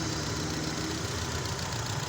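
An Opel Vectra engine idles steadily after its cylinder head has been closed up following a valve job, giving a continuous, even mechanical drone with no talk.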